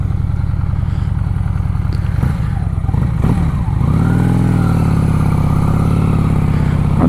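A 2001 Honda Shadow VLX motorcycle engine on a test ride, a steady low throbbing drone with a brief gear change and clatter midway before settling into an even, loud rumble.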